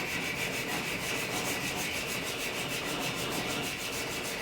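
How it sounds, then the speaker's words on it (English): Hand sanding along a knife blade made from saw blade steel, removing heavier grit marks: a soft, even rubbing rasp of repeated strokes, close and fairly quiet, with no voices. "So sanding parallel to the blade is going to be the best way to see these heavier grit marks and remove them as efficiently as possible."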